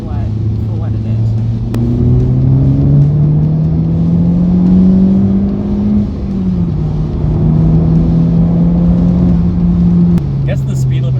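A Honda Civic Type R drives on a closed racetrack in Mexico, its engine droning steadily and rising gradually in pitch, loud and continuous inside the cabin while people talk over it.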